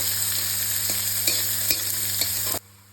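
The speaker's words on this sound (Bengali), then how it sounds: "এবার এটাকে একটু লাল লাল করে ভেজে নেব।" Chopped onions fry in olive oil in a pan over cumin and dried chilli tempering, a steady close sizzle with periodic stirring scrapes, cut off abruptly near the end.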